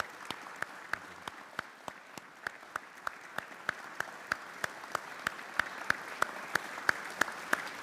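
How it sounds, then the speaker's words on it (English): Audience at a Homerton College talk by Reverend Al Sharpton claps in sparse, distinct individual hand claps, steady and fairly faint, like a small group clapping slowly over a quiet room. "Could we give him a round of applause and a thank you?"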